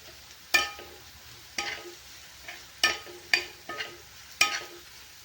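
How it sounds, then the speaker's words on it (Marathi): Onion sautéing in a pan for a chutney, a soft low sizzle punctuated by about eight sharp, irregular scrapes and clacks of a spatula stirring, close and otherwise quiet with no voices. "कांद्याला छान मस्त गुलाबी होईपर्यंत आता आपण परतून घेणार आहे"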